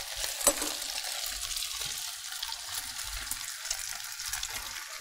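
Duck egg frying in hot oil makes a steady, broad sizzle and crackle throughout, with one sharp clink near the start and a faint low rumble underneath.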